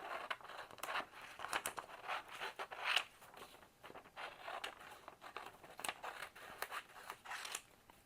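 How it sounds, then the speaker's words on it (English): Scissors snip through a paper strip cut from craft ephemera, a run of crisp, close cuts and paper rustles in an uneven rhythm, with no talking. "So let's cut this strip out of this one."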